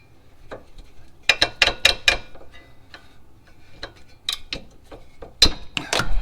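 A ratchet clicks in quick, uneven bursts while tightening a lower control arm bolt on a 2005–2010 Honda Odyssey, the sharp metallic ticks close by and loud against an otherwise quiet garage.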